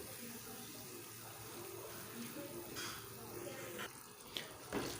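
Water poured from a tap into a pot of mash lentils (dal) being cooked: a steady, soft running-water wash throughout, with a few brief louder splashes near the end, no voices.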